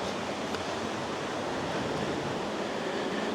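Bubbling sulfur hot spring water at an Oregon hot springs, a steady broadband hiss and churn heard close up, constant and fairly soft, with no voices.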